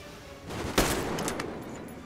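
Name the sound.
gunshot from the video game Metro Exodus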